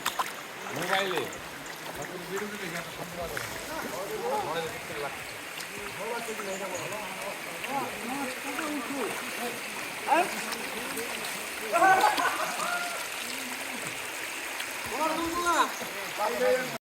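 Water rushing at Sonaichhari waterfall, a steady stream beneath frequent nearby talk, with occasional louder splashes.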